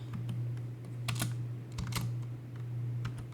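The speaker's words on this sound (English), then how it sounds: "cd slash home slash Zafar, then start typing it partially, and then push a tab key." Fingers tap steadily on a computer keyboard in a quiet room, including a press of the tab key, with a few sharper keystrokes standing out over a low constant hum.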